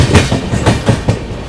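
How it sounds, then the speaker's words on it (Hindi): Near Lingampalli railway station beside a cricket ground, a passing train's wheels clatter in a steady rhythmic clickety-clack, close and loud with no talk. "सामने में मैदान, पिच वगैरह बनी हुई है बढ़िया, क्रिकेट खेलो और इधर से ट्रेनें निकलेंगी। ट्रेनें देखो भाई"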